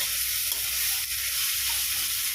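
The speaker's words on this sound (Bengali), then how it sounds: "এখানে চিচিং দিয়ে ভাজছি" Snake gourd frying in a pan with onion, black cumin and chili, a steady close hiss of oil sizzling continuously with faint stirring scrapes and no voices.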